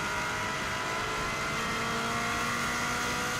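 A Subaru WRX STI accelerates hard on the Isle of Man TT road course, its engine a steady, loud, close drone with continuous road and wind roar and no clear gear changes.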